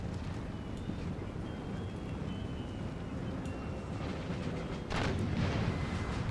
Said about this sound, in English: Yep, that's definitely round shots.